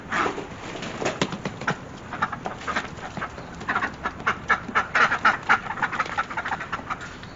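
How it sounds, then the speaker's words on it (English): Several ducks quack in a morning garden, with rapid, uneven bursts of calls that grow busier toward the end, close by and fairly soft. "Good morning, duckies."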